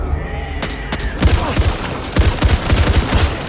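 Rapid bursts of automatic gunfire with sharp cracks and booms in the Back 4 Blood zombie shooter game, loud and close, firing in dense clusters through most of the stretch with a brief voice.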